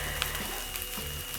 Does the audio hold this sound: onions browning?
yes